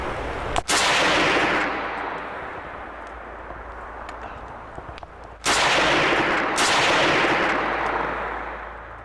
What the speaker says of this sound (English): After several loud gunshots echoed through the forest